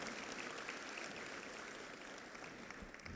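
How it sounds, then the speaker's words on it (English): Applause at a middle school awards ceremony after a student is named 8th grade Student of the Year: a steady, dense crowd clapping that fills the whole stretch at a moderate, fairly distant level. "one more round of applause"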